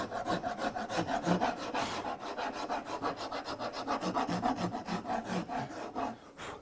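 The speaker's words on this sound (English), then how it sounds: "this is where the larger rasp is nice. Use that flat side," A larger wood rasp, used on its flat side, files the edge of a wooden chair part, giving a steady run of quick rhythmic rasping strokes, close and loud, with no talking.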